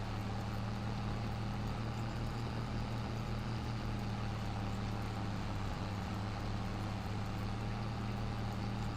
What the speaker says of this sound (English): This is a good sounding tractor, I'll give it that, man. This thing sounds so good.